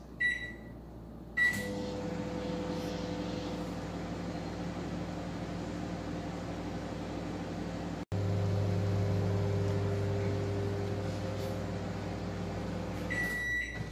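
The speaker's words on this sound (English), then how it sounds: "Now I'm going to put it in the microwave for about a minute." A microwave oven melting chocolate: a steady low electrical hum with tonal buzzing after the door clicks shut and the start beep sounds, running evenly until the closing beeps, quiet and close.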